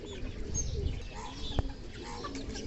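Small bantam chickens cluck and murmur softly at close range, with brief scattered calls and a single sharp knock partway through.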